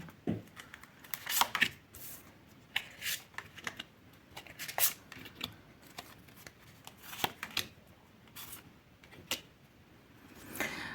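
Riffling and soft slapping of tarot cards being shuffled and laid out on a table, irregular bursts of papery flicks over a quiet room, no talking.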